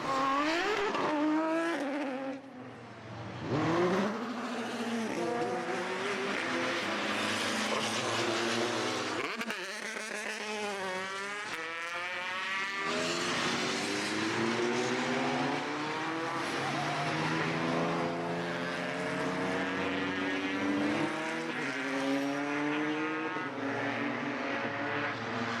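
Race cars pull away from the grid for the second race of a BOSS Ireland round at Mondello, engines rising and falling in pitch as they accelerate through gears, loud at first and then receding into the distance.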